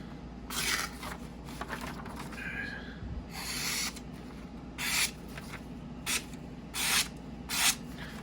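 A Pena X Series Bronco slipjoint knife slices through printer paper from shipping labels, giving a series of short, crisp, close rasping swipes separated by brief pauses.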